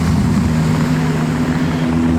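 Ferrari F8 engine during a Ferrari parade at the Zoute Grand Prix, a steady loud low drone with tonal hum, continuous and close throughout, with no clear revving.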